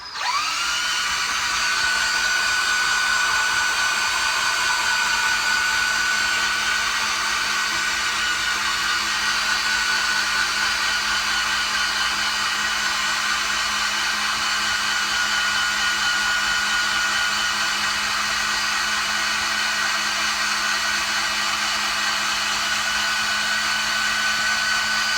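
A Squeezo hand-cranked food strainer fitted with a larger screen working through apples, giving a steady, loud mechanical whir with a constant hum that runs unbroken for the whole stretch, no voices.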